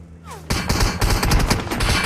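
Video game gunfire breaks out suddenly after a quiet start, with dense, loud bursts of shots that keep coming without a break, like fire from several directions at once.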